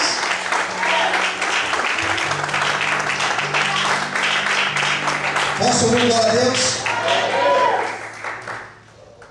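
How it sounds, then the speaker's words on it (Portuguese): A church congregation claps for the Lord at an evening service, steady applause with a sustained keyboard tone underneath while a preacher calls out over the crowd. "Quantos podem aplaudir ao Senhor essa noite?"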